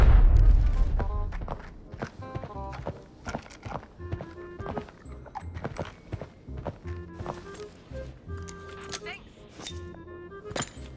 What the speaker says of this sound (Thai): ข้างในนี้ยังมีเสียงเท้าอยู่ครับผม